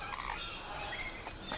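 Several birds call and chirp in a bird park aviary, with a white-throated toucan nearby; a busy mix of overlapping squawks and tweets of moderate loudness, with a couple of brief sharper calls near the end.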